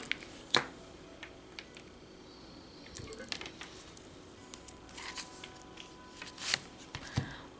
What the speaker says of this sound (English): Pile 2 has 2 cards.